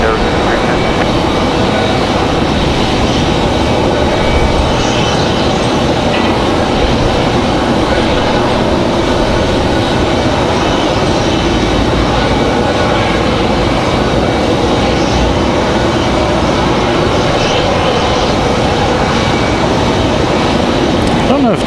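Loud sustained roar of an Alaska Airlines jet taking off at Raleigh Durham airport, a broad continuous rumble heard from outside with a person talking throughout.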